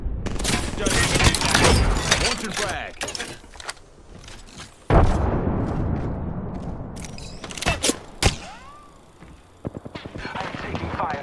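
Bursts of gunfire from an Apex Legends match, loud close rapid volleys and single sharp shots clustered in bursts with gaps between, while a voice talks over parts of the fighting.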